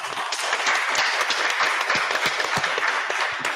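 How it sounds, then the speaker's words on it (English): An audience at a local council election candidates' event gives a round of applause, a close, loud burst of many hands clapping steadily throughout. "The candidates, give them a round of applause."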